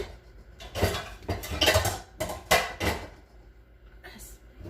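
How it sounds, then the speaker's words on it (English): Metal frying and sauté pans clank and scrape against a stovetop in several loud bursts, with utensils clattering close by and no talking. "next we need the frying pan, saute pan"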